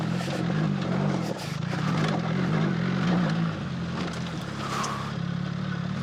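A BMW R1300 GS motorcycle rides off-road at an enduro park, its engine droning steadily and surging as the throttle opens and eases, heard close from the bike.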